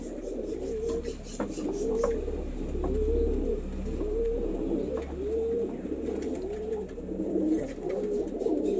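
An Andha Lalshira male pigeon coos close by, a repeated series of soft rolling calls in a steady rhythm over faint background noise.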